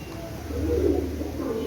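A Teddy pigeon with a long pink beak coos nearby, giving a low, soft, rolling burr that swells briefly in the middle of the moment.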